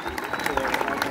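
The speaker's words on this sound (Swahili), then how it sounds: "Nasema weka mikono yako pamoja, tumpe Baba shangwe," A church congregation claps in quick rhythm, with cheering and high voices rising over the brisk, steady beat of hands.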